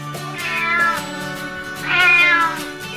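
A cat gives two loud, close meows about a second and a half apart, each a drawn-out, rising and falling tonal call, with a faint background hum between them and no talking.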